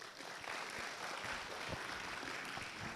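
At a school gathering, children clap after reciting a Sanskrit verse to Krishna. The applause is continuous and fairly faint, a steady wash of many hands with no voices over it.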